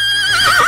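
A single short horse whinny, close and clear, its wavering pitch trembling toward the end.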